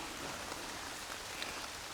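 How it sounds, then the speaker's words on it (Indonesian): Heavy rain pours steadily and densely, a constant broadband hiss of drops on surfaces with no voices. "ini hujan makin deras nih"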